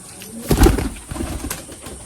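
A soft, low coo from a Madrasi pigeon, a star kalanka, rises and fades over about half a second, followed by quieter murmuring coos and faint rustling nearby.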